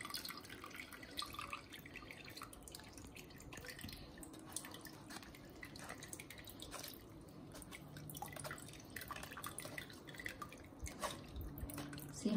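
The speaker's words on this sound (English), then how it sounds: "As you can see, excess water is coming out." Excess water dripping from hot homemade mozzarella cheese, faint irregular drips and trickles spread through a quiet, low background.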